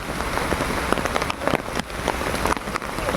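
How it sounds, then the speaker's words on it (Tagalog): Heavy rain falls steadily and densely with no pause, a continuous hiss of drops on surfaces close by, with no talking over it. "Sobrang lakas ng ulan, hindi talaga tumigil."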